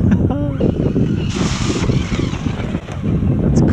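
A Traxxas Hoss RC truck splashes through deep water in a steady, rushing wash of spray and churn, with a brief louder burst of splashing midway, while a voice talks over it close by.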